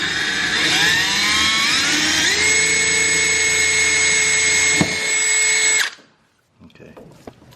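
A power drill runs continuously and loudly, its whine rising in pitch as it speeds up, boring holes for -10AN fittings on a DIY catch can for a 1JZ-powered 240SX drift build, then stopping abruptly before faint handling noises.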